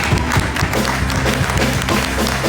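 A church congregation at a consecration ceremony claps steadily in acclamation of the Lord, a dense, continuous wash of applause from many hands filling the space.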